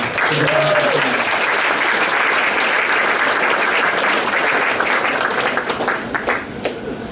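A city conference audience gives a loud, sustained round of applause, dense clapping throughout that thins slightly toward the end.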